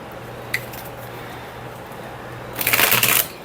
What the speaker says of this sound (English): it's just a really smooth riffle shuffle